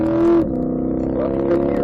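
A C8 Corvette engine roars on a race track, holding a loud, steady pitch then dropping briefly at a shift before building again, close and continuous.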